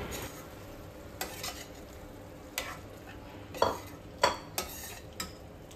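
A kadhai paneer gravy being sautéed in a pan gives a soft, steady sizzle, with several sharp spoon scrapes and clinks against the metal spaced a second or so apart, quiet and close.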